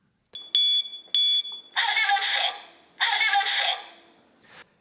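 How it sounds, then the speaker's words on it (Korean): A home standalone smoke detector alarm sounds loud and close: two short, high electronic beeps, then two longer harsh, broadband blaring bursts with a brief gap between them. "이 기기는 연기를 감지하면 경보음을 울려 화재 발생 사실을 알려줍니다"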